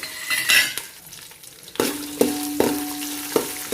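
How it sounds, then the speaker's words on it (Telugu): Peanuts fry in oil in a pan, a gentle sizzle broken by a few sharp, ringing metal clanks of a spoon striking the vessel as they are stirred, close and moderately loud. "మంచి వాసన వచ్చేంత వరకు మనం పల్లీలు వేయించుకోవాలి."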